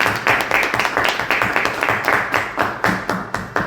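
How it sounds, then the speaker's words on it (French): Studio audience at a French televised talent-show broadcast applauding, a dense run of overlapping claps sustained with uneven swells for several seconds, close and fairly loud. "celle de Manolo et Gaston, applaudissons-les"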